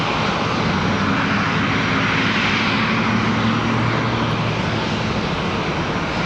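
An Etihad airliner bound for Abu Dhabi takes off from Charlotte Douglas airport, its engines a loud, steady roar with a low drone that holds constant and fills the whole stretch, no voices over it.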